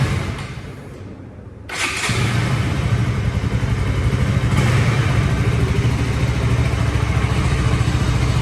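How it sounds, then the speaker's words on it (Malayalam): A 2024 KTM Duke 200 BS6 motorcycle, sitting in neutral, cranks briefly and fires up, then settles into a steady, close, loud idle with no other voices. "വണ്ടി ഇപ്പം ന്യൂട്രലാണ്, ജസ്റ്റ് ഒന്ന് ഓണാക്കി നോക്കാം."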